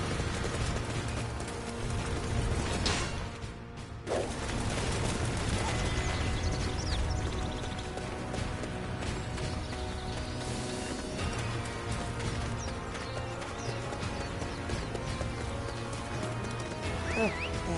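Hooves clatter in a quick galloping rhythm as a horse runs through a forest in the Dynasty Warriors video game, layered over dense game music and effects.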